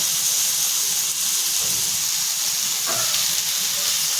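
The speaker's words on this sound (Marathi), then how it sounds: "मीठ टाकल्यामुळे कांदा आणि टोमॅटो छान पटकन भाजले जातात" Chopped onion and tomato frying with salt in a pan for veg biryani, a constant close sizzling hiss with faint stirring scrapes underneath and no talking.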